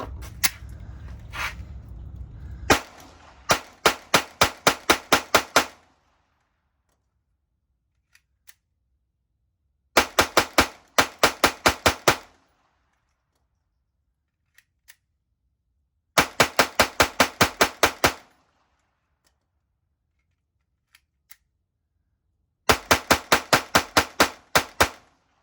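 Rapid strings of sharp gunshots from a Glock G44 .22LR pistol firing M22 rounds, in four bursts of about eight to ten shots each, separated by quiet pauses with a few faint metallic clicks.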